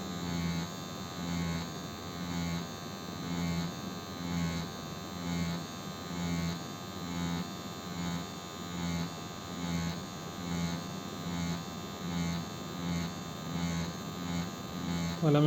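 A tattoo machine needle working on skin, a steady close electric buzz with a rhythmic pulsing pattern that continues for a long stretch over a low hum.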